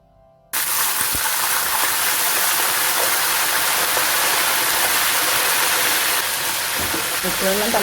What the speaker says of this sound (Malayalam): ഇനി ഇതിലേക്ക് നമുക്ക് ഉപ്പുവെള്ളം തളിച്ചു കൊടുക്കാം